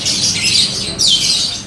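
A female canary gives two harsh, raspy calls in quick succession, close and fairly loud.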